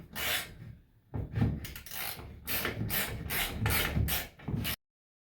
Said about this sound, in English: So I have a 1/2 inch socket, and what I'm going to do is just tighten everything up.